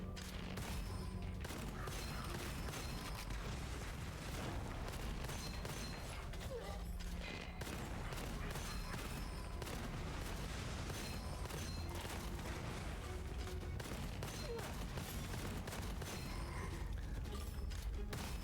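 Rapid automatic gunfire and explosive booms from the roguelike multiplayer shooter game Gunfire Reborn, loud and continuous, layered with mechanical clanks and game effects throughout.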